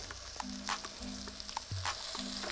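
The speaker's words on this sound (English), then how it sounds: "So that's sizzling pretty good." A turkey burger sizzles and crackles in a hot pan, a continuous frying hiss with small pops, heard up close and fairly quiet.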